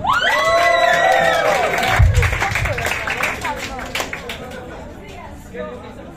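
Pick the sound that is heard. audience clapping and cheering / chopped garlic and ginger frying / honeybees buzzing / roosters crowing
audience clapping and cheering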